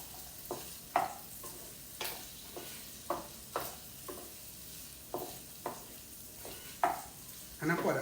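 Beef for pindang daging fries in a pan as a utensil stirs it, with regular scraping clacks about every half second over a soft continuous sizzle, close and fairly quiet.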